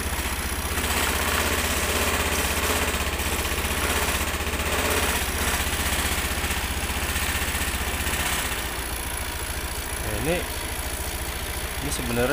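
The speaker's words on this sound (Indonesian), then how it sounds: "Coba saya mau hidupin mesinnya dulu." A Honda Beat FI scooter engine, one that burns oil without smoking, runs at a steady close idle for the whole stretch, a continuous even mechanical drone with a brief shift near the end.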